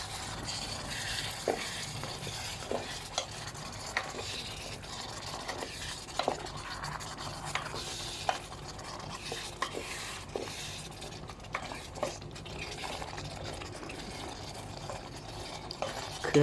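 Beef being stir-fried with red curry paste in a pan at a home kitchen, a steady sizzle with repeated scraping and stirring strokes of a utensil against the pan, fairly quiet and close.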